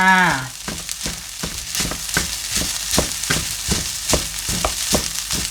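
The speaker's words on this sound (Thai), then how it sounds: "แล้วก็ผัดให้เข้ากันนะจ๊ะ ผัดให้เข้ากันเลย" Fried rice with pieces of fried Chinese sausage is stir-fried in a pan, producing a steady run of rhythmic scraping and tossing strokes, each a sharp clatter over a soft sizzle, with no talking.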